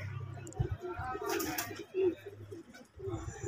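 Pigeons coo softly in low, rolling calls on a rooftop, with a few wing flutters mixed in, close by and fairly quiet.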